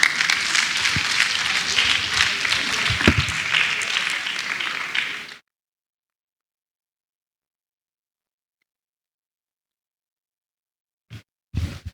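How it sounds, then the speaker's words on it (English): Audience at a pharmaceutical society annual conference in Uyo applauds new members: a loud, dense round of clapping with crowd voices for about five seconds, then abrupt silence broken by a couple of brief knocks near the end. "A round of applause for our new members."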